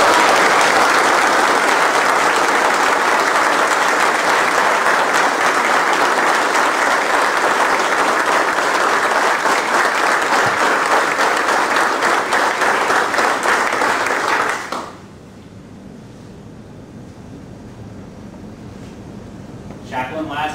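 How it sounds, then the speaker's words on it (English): Applause from a military audience at a Seabees NMCB 28 ceremony, a dense steady roar of clapping that runs loud for about fifteen seconds before cutting off to a quiet room. "Please join me in a round of applause for this brave member of the old pro Seabees."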